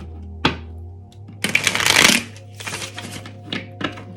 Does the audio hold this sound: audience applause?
no